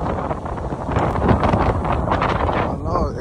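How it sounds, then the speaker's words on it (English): Strong wind at a beach in Mexico buffets the microphone in a steady, roaring rush of noise with gusts rising and falling, no voices clearly heard. "It's hella windy out here."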